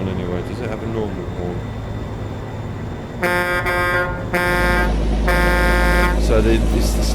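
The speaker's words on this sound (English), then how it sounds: "So it's the standard in-game horn," Standard in-game horn of a Ford Aeromax truck in American Truck Simulator, sounding in two loud sustained blasts midway through over a steady engine drone.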